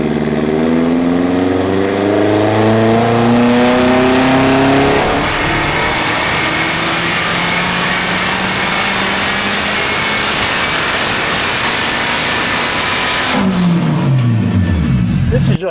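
A 1990s Honda time attack car revs hard on a dyno, its loud engine note climbing in rising sweeps, then holding at a steady, roaring high pitch before winding back down near the end.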